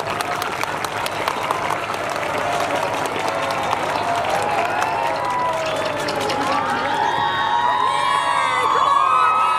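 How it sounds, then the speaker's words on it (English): A school audience claps and cheers loudly and continuously, with children's shouts and whoops rising over the applause toward the end. "Big clap up for you."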